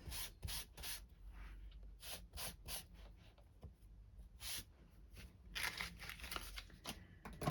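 A soft embossing buddy pouch is rubbed back and forth over cardstock before heat embossing, giving faint brushing and scuffing strokes in an uneven rhythm, close and quiet with no voices.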